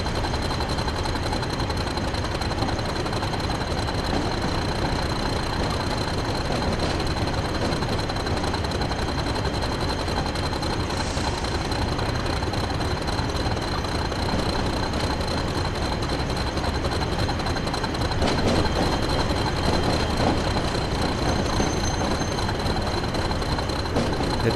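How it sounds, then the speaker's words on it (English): A British Rail Class 40 diesel locomotive, known as the Whistler, runs continuously in Train Sim World on the Northern Trans-Pennine route, a loud steady engine drone with a persistent high whistle tone and no talk. "This is PR class 40, the Whistler."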